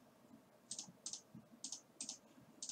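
Fingers tap out short bursts on a computer keyboard, quiet but close, in quick clustered keystrokes separated by brief pauses against a faint room hum.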